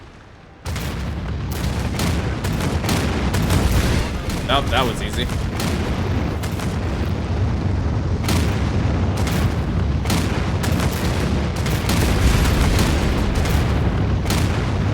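Rantian guns in an Anno 2205 video game battle fire a heavy, continuous barrage of booming blasts and sharp cracks, loud and unbroken after a quieter opening, while someone talks briefly over the din.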